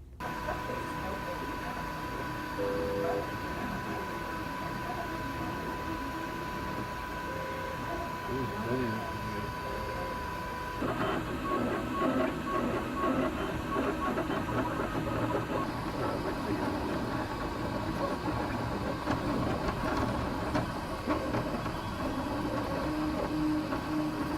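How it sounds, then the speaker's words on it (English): A 3D printer printing a chicken model, with a steady mechanical hum and whirring stepper-motor tones running continuously, growing slightly louder and busier partway through, with faint background noise throughout. "a short clip of the process of my 3D print of this chicken"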